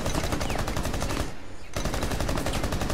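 Rapid automatic gunfire from the video game Rainbow Six Siege, a loud continuous burst of rattling shots that breaks off briefly in the middle before resuming.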